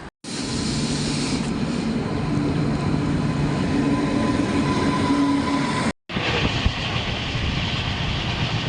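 A passenger train bound for Mysuru rolls along with a continuous loud rumble and rattle of carriages heard from on board, broken by a brief gap partway through.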